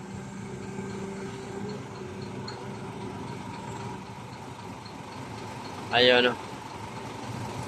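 A heavily loaded truck carrying wood runs at a steady low idle beside a long-arm excavator unloading a water tank, with a voice talking over the drone and a brief sharp tone near the end.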